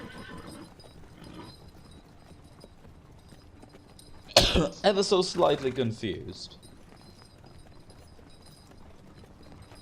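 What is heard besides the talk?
horses riding, from video game Thronebreaker: The Witcher Tales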